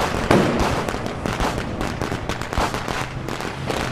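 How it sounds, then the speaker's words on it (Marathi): A rapid string of firecrackers bursts near the crowd at a public gathering, sharp cracks crowding together almost continuously with little pause, loud and dense from start to finish. "अरे काय एवढे फटाके वाजवता रे"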